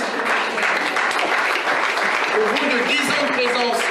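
Sustained, dense applause from a crowd at a political meeting in New Caledonia, loud and even across the whole stretch with a murmur of voices mixed in.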